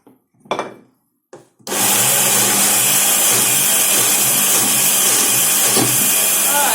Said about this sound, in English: I'm going to see if it works a little better grinding it with the tamper